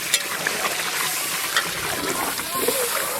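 Water pours and splashes into a cooking pot for fried rice, a close, continuous splatter and slosh with a voice faintly under it.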